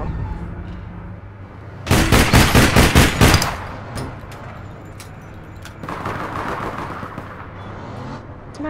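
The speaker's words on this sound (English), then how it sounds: "Guy's just camping with fucking sniper rifle." Gunfire in the video game All Points Bulletin, with a sniper rifle involved: a loud, rapid burst of close shots, then a run of fainter, quicker shots in the background.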